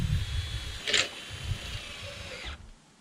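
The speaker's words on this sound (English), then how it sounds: "Put one of my self-tapping screws in." A power drill drives a self-tapping screw into a backyard greenhouse end wall, a steady close whir lasting about two and a half seconds with a brief louder bite midway before stopping.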